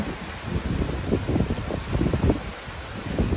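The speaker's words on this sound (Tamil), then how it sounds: "மழையை பாருங்க, பயங்கரமான மழை கடல் மேலே." Heavy rain pours steadily onto the open sea around a fishing boat during a multi-day fishing trip, a dense continuous hiss with low rumbling gusts and no talking.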